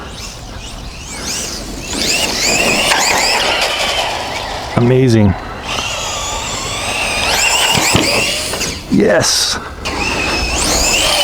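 A VKAR Racing SCTX10 V2 electric RC short-course truck whines as it drives, its motor pitch rising and falling through near and far passes, with brief spoken exclamations over it.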